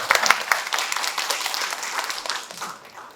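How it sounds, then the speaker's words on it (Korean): Audience applause for a guest lecturer at the close of a lecture event, a short burst of close clapping that starts strong and tapers off within a few seconds. "강의해 주신 대표님께 다시 한번 박수 부탁드리도록 하겠습니다"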